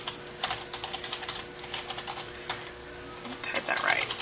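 Typing on a computer keyboard, a steady run of close, quick key clicks at an even rhythm across the whole stretch, with a brief murmur of speech near the end.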